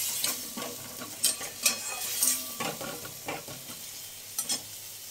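Onion with ginger-garlic paste frying in a pan for egg korma, a soft sizzle under intermittent scraping and clinking stirs of a spatula against the pot, close and fairly quiet.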